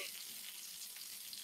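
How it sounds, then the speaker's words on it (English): Sausages fry in a hot pan, giving off a steady, dense, hissing sizzle that stays constant and fairly quiet throughout, with no talking. "it was that sausage that was producing all of the sizzle"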